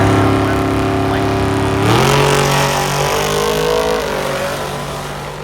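A drag race car at a drag week event at MIR runs loud and steady, its engine note holding then stepping up in pitch partway through before easing off, with no voices over it.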